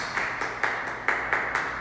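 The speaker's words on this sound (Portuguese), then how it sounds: "Pode sentar e aplaudir o Senhor aí bem forte." A Sunday church congregation on Mother's Day claps in unison, with a steady rhythmic pattern of bright hand claps about every quarter second over a constant room noise, moderately distant and reverberant.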